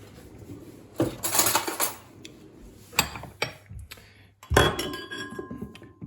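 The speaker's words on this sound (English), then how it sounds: "what we need now is we need that little extra pan here. Again, place it on medium heat." A small pan is set down on a stovetop over medium heat in a kitchen making porridge, giving several sharp metallic clanks and clinks in separate bursts, close and fairly loud, with no talking.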